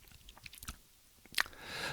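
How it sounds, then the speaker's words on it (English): Wet mouth noises picked up close on a headset microphone: a scattering of small clicks and smacks, then a sharp louder smack and a breathy hiss, all faint and without talk. "it's more sensitive to plosives and swallowing sounds"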